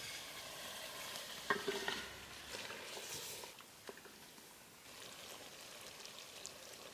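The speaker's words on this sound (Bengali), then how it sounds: "মশলা কষানো হয়েছে, এখন হাঁসের মাংসগুলো দিয়ে দেব।" Duck meat goes into a pan of fried spices and is stirred, a quiet close sizzle with a few sharp clinks and scrapes early on, then a steady soft frying hiss.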